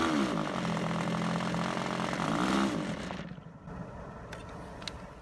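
A model RC airplane engine runs at a loud, steady buzzing whine, then cuts off abruptly after about three seconds, leaving faint ticks and quiet background.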